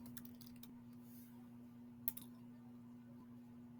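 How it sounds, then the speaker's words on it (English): Quiet keystrokes on a computer keyboard, a few soft scattered clicks over a steady low hum, one slightly sharper tap in the middle. "I'm going to type in flower."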